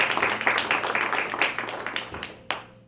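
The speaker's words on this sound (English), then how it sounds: "Let's give her a round of applause" An audience applauds a panel organiser at a community conversation event, a dense burst of many hands clapping up close that thins out and ends with a few last claps.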